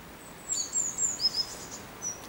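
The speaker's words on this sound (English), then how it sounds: "There's a lot of small birds in here." High, thin chirps from small birds, several short tweets scattered over a quiet background at moderate distance.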